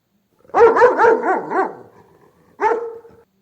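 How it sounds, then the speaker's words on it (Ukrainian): A dog barks in a quick run of about five yaps, then pauses and lets out one more bark, close and clear. "Це собака."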